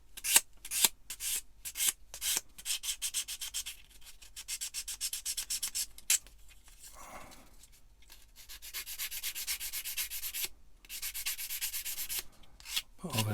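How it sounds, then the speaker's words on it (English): A power sander works over plastic Bandai Star Wars AT-AT model kit parts in short bursts of gritty rubbing, pausing between passes, fairly faint and close. "go over any bits that you think may need dressing with the sander"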